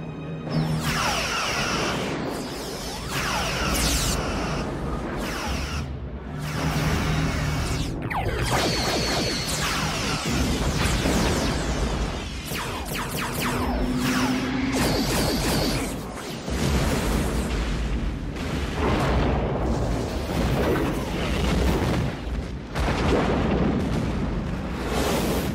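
Starship weapons fire from the Enterprise-E in a Star Trek battle, loud repeated booming blasts and whooshing bursts layered over a dense score, continuous and intense for the whole stretch without speech.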